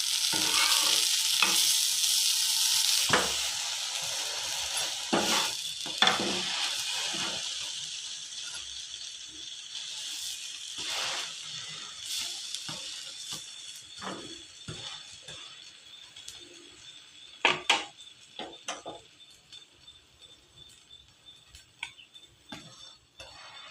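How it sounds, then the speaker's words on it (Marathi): Pav bread rolls sizzle in butter on a hot flat griddle, the frying hiss strong at first and fading, broken by clicking taps and scrapes of a spatula, with no talking. "पुन्हा दुसऱ्या साईडने आपल्याला हे शेकून घ्यायचे। परत टाकायचं आहे बटर,"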